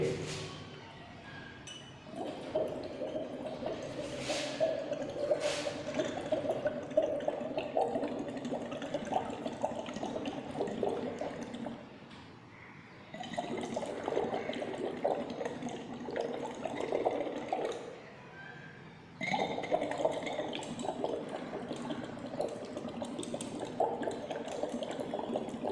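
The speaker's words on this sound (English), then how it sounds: "insert the straw in the beaker and blow the air." Air blown through a straw into liquid in a beaker makes steady bubbling gurgles that run in long stretches broken by brief pauses for breath.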